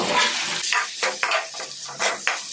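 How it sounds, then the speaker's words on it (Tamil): Rock salt stirred into tomatoes frying in a pan for a dried ghee fish curry, with a steady sizzle broken by several scraping strokes of a spoon against the pan and no talking. "இப்போ நம்ம சேர்த்துக்கிட்ட கல் உப்பை நல்லா தக்காளி கூட கலந்து விட்டுருவோம்"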